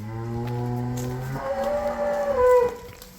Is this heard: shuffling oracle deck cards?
no